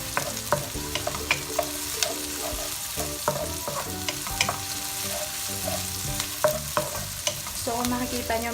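Garlic and onion fry and sizzle steadily in a pan for pork mechado, with repeated clacks of a spatula stirring through a dense, continuous crackle, close and fairly loud, no talking.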